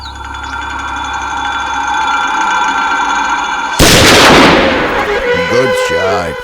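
A gunshot rings out during a hunting scene in a film, a sudden loud burst cutting in over a steady music-like bed, followed by ringing decay and bursts of voices.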